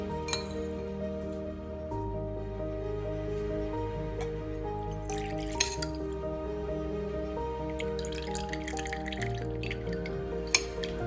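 Rice water soaked for about eight hours being filtered, with steady soft drips and trickles into a container, an occasional faint clink, and a low hum underneath throughout.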